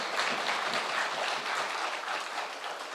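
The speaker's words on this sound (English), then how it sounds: "I think that deserves a huge round of applause" A dense, steady round of audience applause fills a hall at TiECon Chandigarh, loud and continuous throughout with no voices over it.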